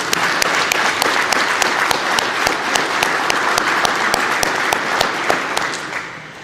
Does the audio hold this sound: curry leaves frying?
no